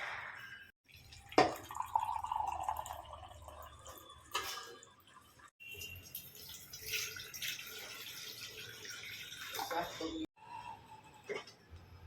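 Water splashes and trickles into a vessel on a home kitchen stove to make tea, in a few short bursts with pauses, close by, with some talking.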